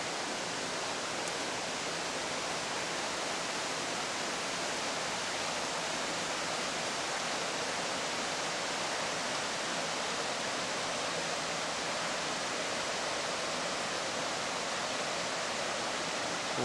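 A brook flows steadily through a hemlock grove, its broad, even rush of water continuing unbroken and close by, with no voices over it.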